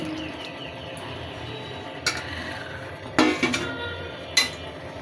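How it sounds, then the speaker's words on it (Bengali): Beef and potatoes being stirred in a cooking pot, with a few sharp metallic clinks and scrapes of a utensil against the pot over a low steady background, no talking. "আলুগুলো দিয়ে দিচ্ছি। মাংসটা একটু নাড়াচাড়া করে"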